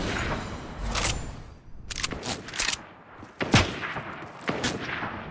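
Bursts of gunfire from a thermal-scoped assault rifle in Fortnite, several sharp irregular shots with louder cracks around the middle, layered over busy game noise without speech.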